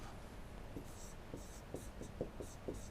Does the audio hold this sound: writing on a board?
yes